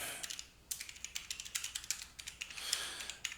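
Rapid keystrokes clatter on a computer keyboard, a quick irregular run of close, crisp clicks with a short pause partway through.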